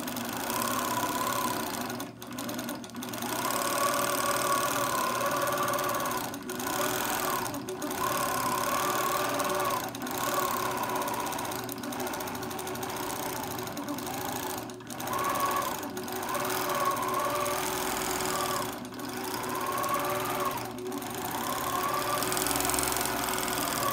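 Long arm quilting machine stitching freehand fill patterns, a loud steady mechanical whir and rapid needle clatter with brief pauses and speed changes throughout, no voices.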